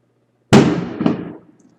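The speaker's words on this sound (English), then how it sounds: "Fireworks, hopefully? Not something blowing up." Fireworks going off outdoors at night: one sudden loud boom, then a second crack about half a second later, with a rumbling decay that fades within a second. No voices.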